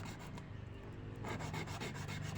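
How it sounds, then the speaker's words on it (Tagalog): Rasping, rubbing strokes of sanding or filing along the freshly cut edges of PVC pipe for a DIY railing, close and steady with faint repeated passes and no talk. "lihain natin yan isa isa dito sa may gilid gilid nya yan"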